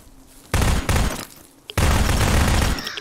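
Gunfire in the survival shooter ZERO Sievert: a loud burst of automatic fire starts abruptly, pauses briefly, then a second longer sustained volley rattles close by before cutting off.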